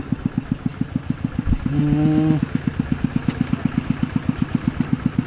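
A tractor's diesel engine chugs at a steady idle, close by, with a regular thumping pulse and a brief rising whine in the middle.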